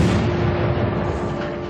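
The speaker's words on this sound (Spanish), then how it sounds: "Al amanecer del día 15 de marzo oyen una fuerte explosión." A loud, sustained deep rumble rolls on without a break, consistent with an explosion at the Fukushima nuclear power plant heard in a documentary.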